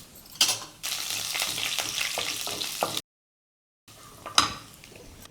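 Cumin and mustard seeds sizzle in hot oil with a crackling, popping hiss and light clinks of a spoon in the pan. The sound is close and cuts out briefly partway through.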